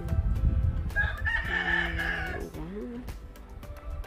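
A rooster crows nearby, one drawn-out call rising and falling, with other farmyard noise around it.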